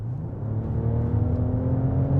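A BMW B58 engine in a 2024 BMW 750e runs steadily with a low, throaty hum and faint revving, sounding close and continuous throughout.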